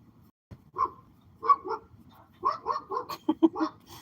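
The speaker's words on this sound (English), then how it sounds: "Got this dog over here just barking." A dog barks several times at a distance, short sharp yaps in two bursts with quiet gaps between.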